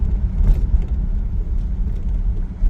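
A Dodge fitted with a Stromberg BXVES-3 carburetor drives along a test loop, its engine giving a steady, loud low rumble from inside the car with no speech.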